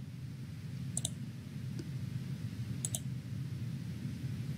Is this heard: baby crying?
no